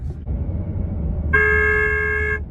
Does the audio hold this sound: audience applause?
no